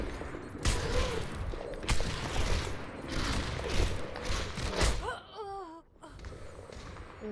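Video-game gunfire during a Necropolis match, a string of sharp shots and bursts close up with mechanical clatter between them, then a quieter stretch with short whooshing effects near the end.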